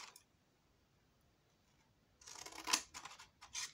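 Scissors snip through paper for a homemade advent calendar, with quiet near-silence at first, then a burst of close, crisp cutting strokes and crinkling in the final second and a half.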